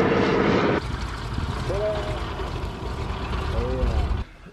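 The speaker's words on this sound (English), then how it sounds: "Our airplane is here." De Havilland Beaver floatplane in Alaska, its propeller engine droning steadily at moderate distance, with a louder burst at the start and voices talking over the hum.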